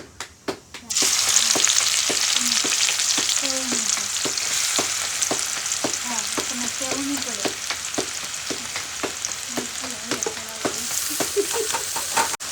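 Onion and cumin sizzle steadily in hot oil for a bread pakora filling, with repeated stirring scrapes and clicks of a spoon against the pan throughout, close and continuous with no talking.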